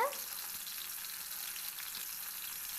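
Prawns frying in hot oil over a medium flame give a steady, dense sizzle that holds evenly from start to finish, close up and with no voices.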